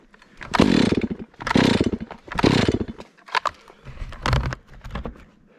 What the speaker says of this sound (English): There's something wrong with my chainsaw.